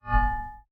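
A metallic resonance layer for a designed cold-weapon blade sound effect: one low thump blooms into ringing, steel-like overtones that sustain briefly and then decay within about half a second.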